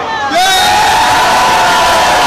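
A large crowd at a rally on Kyiv's Maidan roars into loud cheering and shouting with applause, a sustained wall of voices close and intense after a brief quieter start.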